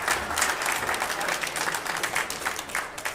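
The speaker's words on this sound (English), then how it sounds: "A well-deserved round of applause." Audience applause at a 10-ball pool match, a steady burst of many hands clapping that holds at even strength throughout, heard at moderate distance.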